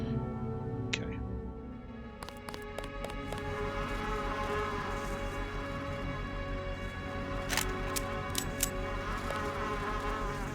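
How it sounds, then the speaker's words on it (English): Buzzing flies in the video game Deus Ex, a continuous close insect drone with wavering pitch running the whole time, overlaid by a few sharp clicks and brief bursts partway through. "Those buzzing flies are like the same sound effect as DayZ."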